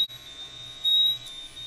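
A GMI PS500 gas detector sounds a steady high-pitched alarm tone with a faint low hum beneath it and a brief louder swell midway.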